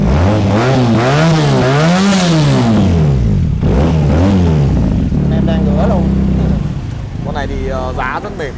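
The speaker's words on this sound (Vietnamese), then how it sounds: "Máy nổ nghe cực kỳ hay ha, hai máy luôn." A Benelli motorcycle engine is revved repeatedly at close range, rising and falling in pitch, then settles into a steadier idle with clattering mechanical noise and a voice over it.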